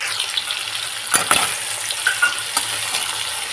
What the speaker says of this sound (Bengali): পেঁয়াজটা আমার ভাজা ভাজা হয়ে গেছে। এবার এর মধ্যে আমি ছেড়ে দেবো টমেটো।